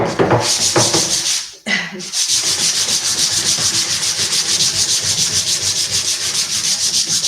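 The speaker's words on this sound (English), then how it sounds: "and then I'm going to sand it" Close, steady hand sanding of wood veneer on vintage furniture, a continuous rhythmic rasping stroke after stroke with one brief pause near the start.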